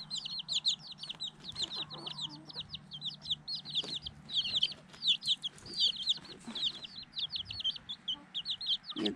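Hens clucking and chirping steadily while scratching and digging in the ground for bugs for their chicks, a continuous busy chorus of soft clucks and high peeps close by.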